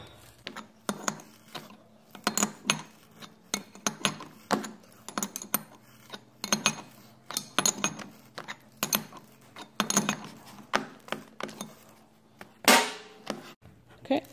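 A power beyond sleeve is tightened down on a 3-function loader control valve, producing scattered metallic clicks, ratcheting ticks and small rattles in uneven bursts, quiet and close.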